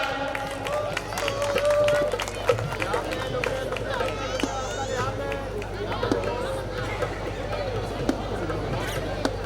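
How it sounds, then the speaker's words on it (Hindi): Audience clapping and crowd chatter at a Sonkar community gathering for Republic Day, a dense patter of applause mixed with murmuring voices and a low hum from a sound system, fairly close and steady. "जोरदार तालियां।"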